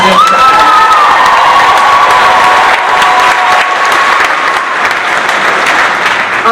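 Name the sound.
audience applause for the sound engineer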